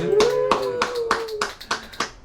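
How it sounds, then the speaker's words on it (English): A small audience claps in greeting for a guest at a live show. Sharp separate claps come in a loose rhythm over a speaking voice, then thin out toward the end. "Everybody give a clap"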